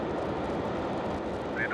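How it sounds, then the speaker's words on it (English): A Soyuz rocket at launch with its engines igniting, a steady deep rumbling roar filling the whole stretch, heard from a distance with a faint tonal whistle near the end. "We have ignition of the Soyuz"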